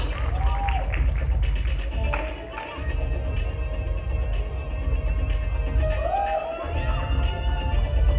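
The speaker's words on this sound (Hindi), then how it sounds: "Please give a big round of applause." A crowd applauds at the Dadasaheb Phalke Awards 2017 ceremony in a dense, sustained wash of clapping, with voices talking over it through most of its length.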